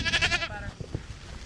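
A goat on a farm with about 200 sheep and a dozen or so goats gives one loud wavering bleat up close, followed by faint thuds and shuffling.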